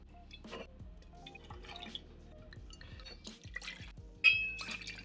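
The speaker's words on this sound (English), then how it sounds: "I'll give each of these glasses a little rinse" Wine glasses get a quick rinse with water, with scattered drips, trickles and light splashes, and near the end a brighter pour or splash rings against the glass.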